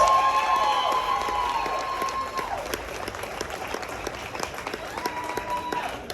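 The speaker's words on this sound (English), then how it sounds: "Everybody now give Ruth a round of applause" Applause from the audience at a VIP getaway event in Las Vegas, a steady crowd clapping that thins out over several seconds while the room stays lively around it.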